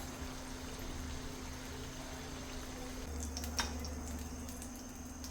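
Avalakki chakli fry in hot oil with a steady, soft bubbling hiss and a steady low hum beneath, a few small crackles rising partway through; no speech.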